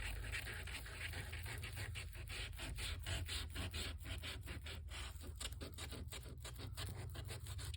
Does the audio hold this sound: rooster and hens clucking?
no